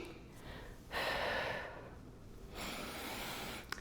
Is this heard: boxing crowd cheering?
no